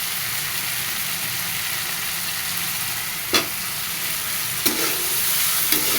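Fried potatoes stirred into sizzling spice paste in a pan, a continuous hiss of frying with a few sharp scraping clicks of the spoon, close and alone without speech.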